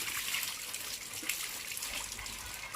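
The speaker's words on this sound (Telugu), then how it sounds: "నీళ్ళు పట్టాలి మంచిగా బాటిల్లు కడగాలి నీళ్ళు పట్టాలి" Water runs steadily from a tap as bottles are filled during everyday village household chores, a continuous close trickling rush with no talk.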